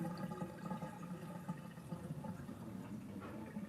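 Tap water runs steadily over dirty leafy greens being scrubbed clean in a sink, a faint continuous splashing rush with no voices.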